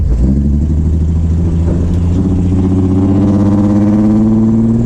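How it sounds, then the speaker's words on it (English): A car engine rumbles steadily with a deep, throaty exhaust note, rising slightly in pitch as it revs, close and loud throughout. "You can really hear that exhaust note."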